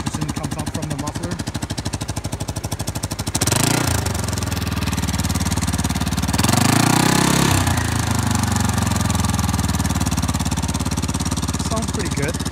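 A 1998 Yamaha Majesty 250 maxi scooter engine runs nearby, opening with a fast, even idle putter, then settling into a steady drone with two brief revs, and a person speaks over part of it.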